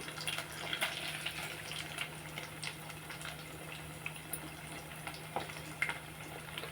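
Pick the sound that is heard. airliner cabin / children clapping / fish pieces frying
fish pieces frying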